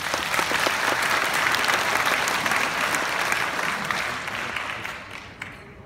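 A conference audience at a company gathering breaks into sustained applause, a dense, even clatter of many hands clapping that fades out over the final second.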